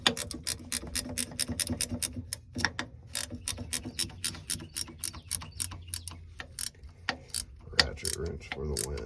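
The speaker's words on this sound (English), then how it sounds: "Ratchet wrench for the win." Ratchet wrench turning on a Jeep TJ transfer case cable bracket: a steady run of sharp, close metallic clicks in quick regular rhythm, continuing for several seconds with faint low mechanical noise underneath.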